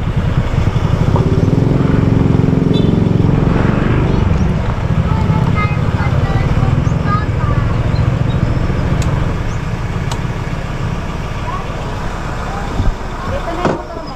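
A motorcycle engine runs loudly and steadily close by, a dense low rumble that holds for the whole stretch and eases slightly near the end.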